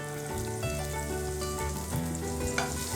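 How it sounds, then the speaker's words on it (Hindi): Chopped carrot and cabbage sizzle and fry steadily in a hot pan with cumin, a dense continuous crackle with occasional stirring scrapes, close and unbroken throughout. "अब मैं डाल रही हूं इसमें थोड़ी सी बारीक कटी हुई गाजर। साथ ही मैं डाल दूंगी इसमें बारीक कटी हुई पत्ता गोभी"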